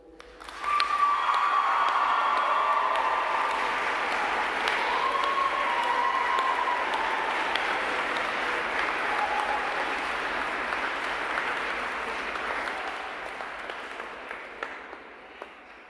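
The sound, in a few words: applause for graduates' supporters at graduation ceremony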